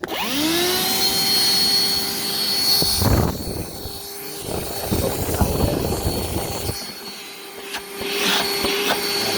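RIDGID 18V cordless 3-gallon wet/dry vac spinning up with a rising whine, then running as a loud continuous roar whose pitch and airflow shift as the suction is used, close by.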